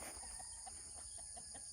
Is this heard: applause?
no